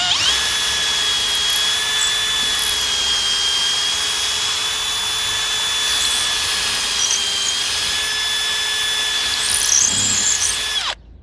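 A power drill bores a hole through wood to fit a Roman roof tile fastener. Its high, steady whine runs close and loud for about eleven seconds before stopping abruptly.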